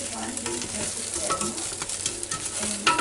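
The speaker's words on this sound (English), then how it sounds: "So, now we'll stir it up a little bit." Vegetables being stirred inside a Ninja Foodi Deluxe air fryer, with a steady close-up sizzle and frying hiss, scraping and stirring noises, and a few light clinks and bumps.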